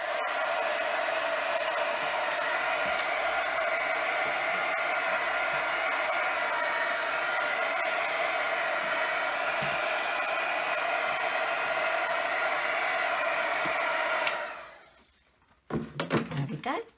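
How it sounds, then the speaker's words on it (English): A heat tool runs continuously for about fourteen seconds, drying paint on a craft panel with a loud, steady blowing whoosh, then cuts off, followed by a few small handling knocks. "I'm just going to dry that with my heat tool"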